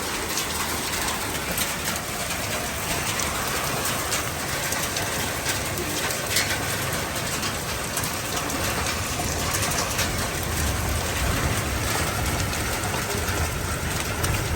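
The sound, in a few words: heavy rain falling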